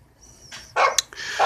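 Neighborhood dogs bark in a quick irregular burst of several close, loud barks mixed with a higher whining tone, with no voices.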